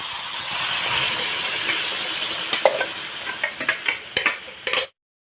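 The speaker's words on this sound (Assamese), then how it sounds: "এতিয়া বিলাহীখিনি দি আছোঁ।" Tomatoes dropped into hot oil in a wok sizzle loudly and steadily, then give way to a run of sharp stirring scrapes and spatters before the sound cuts off abruptly.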